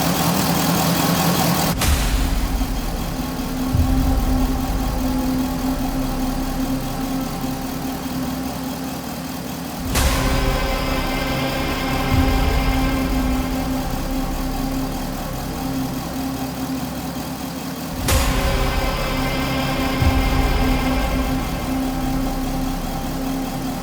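A 2005 Corvette engine idles lean with a steady low hum, broken by three sharp clicks or bumps at regular intervals, each followed by a brief surge.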